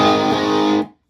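A searing, high-gain electric guitar chord from an Orange amp driven by a StewMac Ghost Drive boost rings loud and dense for under a second, then cuts off abruptly.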